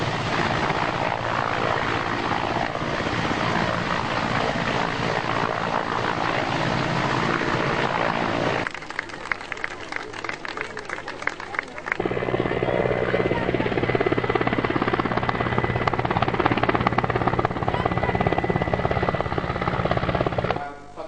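An Air Force helicopter at a school helipad produces a loud, constant rotor and engine roar with a dense buzzing throb, briefly thinning in the middle before returning at full strength.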